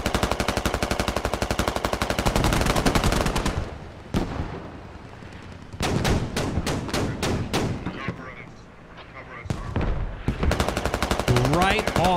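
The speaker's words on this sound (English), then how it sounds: "as they are getting hit by some mortar fire right now." Mortar and gunfire in a military video game battle at Al Basrah, with bursts of rapid shots, heavy thuds and pauses between volleys, loud and close, with a voice talking over parts of it.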